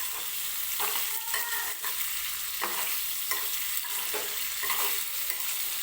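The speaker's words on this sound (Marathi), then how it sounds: "पण अगदी फास्ट गॅसवरती 2 ते 3 मिनिटच फक्त मी फ्राय करणार आहे." Paneer frying in a pan over high gas, a steady close sizzle with repeated stirring scrapes and brief clinks throughout, no voices.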